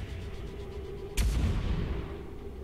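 A single sharp gunshot from the XCOM 2 video game cracks out mid-clip, a loud burst with a short booming tail over quiet background.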